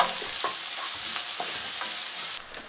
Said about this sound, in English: Add the carrots and the mushrooms. Stir from time to time for 1 minute.